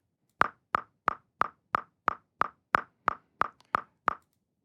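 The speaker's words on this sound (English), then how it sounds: "we're hearing every one of those 7 beats, right? You hear it? 1, 2, 3, 4, 5, 6, 7." Logic X metronome plays a steady run of evenly spaced, crisp woody clicks in seven-beat bars, about three per second, heard clearly and alone.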